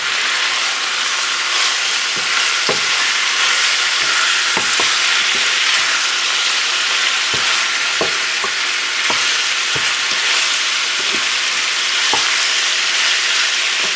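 Food fries in lard on an electric stove with a loud, steady sizzling hiss, broken by small pops and the odd faint scrape, close and continuous without talk.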